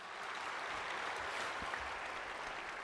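A church congregation applauds the city mayor during a worship service, a steady wash of many hands clapping at a moderate distance, with no voices over it.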